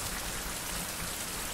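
Steady, dense rain pouring in a survival video game, a constant hiss of drops with no breaks, moderately loud and unaccompanied by voices.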